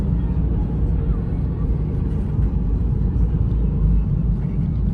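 A 2.0 diesel automatic Nissan Qashqai on the move, its low steady engine rumble and road noise droning evenly from inside the cabin.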